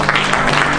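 A church congregation claps hands together in praise, a dense, steady burst of applause filling a brief moment at close range with no clear voice over it.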